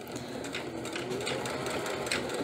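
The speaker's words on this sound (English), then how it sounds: "Go ahead and stitch in a couple and then give a back stitch." A sewing machine stitching an embroidered baby bib, a steady fast mechanical whirr with even needle ticking, close and continuous with no talking.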